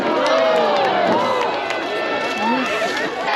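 Arena crowd at a Medieval Times joust cheering and shouting with many overlapping voices, loud and close, with individual yells rising and falling over the din.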